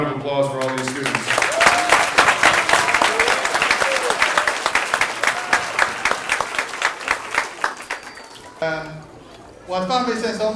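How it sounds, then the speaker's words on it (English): Audience applause for students at a school ceremony, a loud sustained round of clapping from a crowd that tapers off, with a voice speaking briefly at the start and end. "Let's give a round of applause for all these students."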